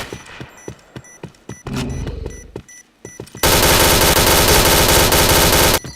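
Rapid automatic gunfire in the first-person shooter Point Blank, with sharp repeated shots and then a dense, loud sustained burst of machine-gun fire in the second half, no voices over it.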